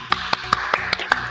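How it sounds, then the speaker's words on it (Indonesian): A classroom applauding a student, a short burst of about seven evenly spaced, crisp hand claps. "Beri tepuk tangan untuk Mbak Dian."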